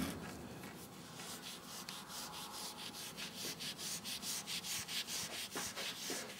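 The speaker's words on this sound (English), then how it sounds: "I'll just clean this surface underneath here. A bit of steel wool." Steel wool scrubbing a surface underneath a laser table to remove smoke residue, fast rhythmic back-and-forth rasping strokes close up, growing more regular and pronounced toward the end, with no talking.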